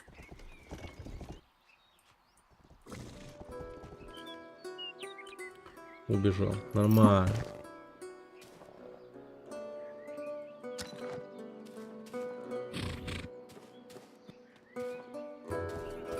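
A knight's horse in a video game clops along at a steady gallop and lets out a loud neigh partway through, with game sounds and someone talking over it.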